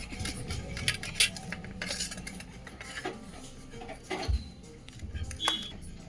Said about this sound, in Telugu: ఇప్పుడైతే పీసెస్గా కట్ చేయాలి. అరే సమానం కట్ చేయాలి ఇట్లా.